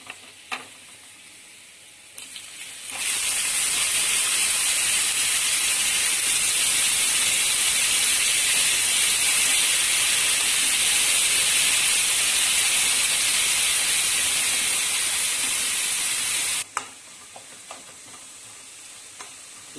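Shredded cauliflower and cabbage rice sauteing with golden garlic in a hot pan, a loud steady sizzle and hiss that starts abruptly, runs unbroken for about fourteen seconds, then cuts off to quiet.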